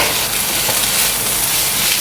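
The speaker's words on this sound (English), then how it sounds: "Next, we'll be stir frying our marinated chicken breasts." Marinated chicken breasts stir-fry in oil in a hot pan, a loud, close, continuous sizzle with faint scraping of stirring and no voices.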